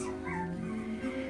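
Red and golden wheaten schnauzer puppies whimper and yip close by in a thin, high, continuous whine with no talk over it.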